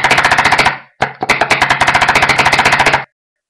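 A Dangerous Power G3 paintball gun on PSP mode fires rapid bursts of about 15 balls per second, loud close mechanical popping in two strings separated by a short pause.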